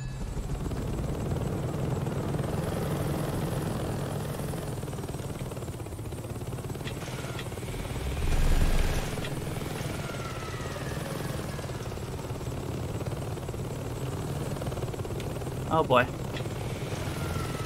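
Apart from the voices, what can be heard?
helicopter in Saints Row 2 video game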